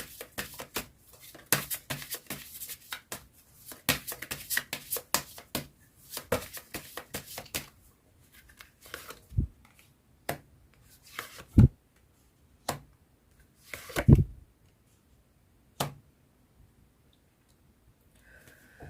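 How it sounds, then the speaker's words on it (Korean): Tarot cards are shuffled in a rapid, dense run of soft riffling clicks, then drawn and laid down as a few scattered separate taps and slaps, close and fairly quiet. "마지막으로 조언점 카드 뽑아보도록 할게요"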